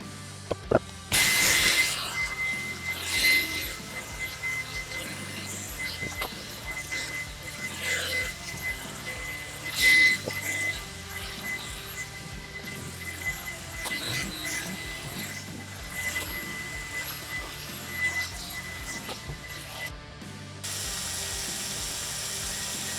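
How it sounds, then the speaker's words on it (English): Two 12V cordless drills run together with their triggers zip-tied down, a steady whirring, clicking mechanical drone that goes on for a long stretch with occasional louder knocks and handling bumps, and no talking. "Both drills are gonna have the trigger zip tied down and ran until they virtually die"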